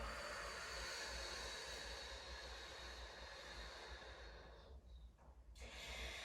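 Deep breathing during a pregnancy yoga session, with a long, steady airy rush across the whole stretch that fades briefly near the end before a final breath swells back in, no talking.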